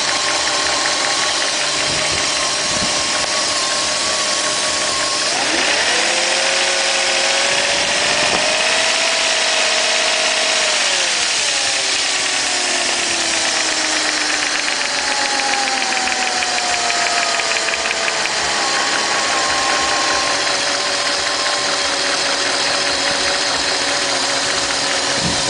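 A 1995 BMW 740iL engine idles steadily after warming up, a continuous mid-pitched hum with faint tonal shifts in speed and no voices over it.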